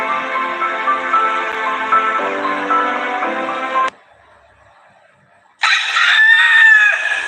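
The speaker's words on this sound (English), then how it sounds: "Roosters crow every morning to mark their territories and announce the beginning of the day." A rooster crows loudly and close by, a long harmonic cock-a-doodle-doo, then a short quiet pause before a second bright, strained crow begins.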